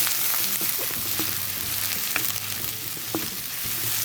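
Sliced large onion frying in a pan, a steady crackling sizzle with faint stirring clicks throughout, close and alone with no talk.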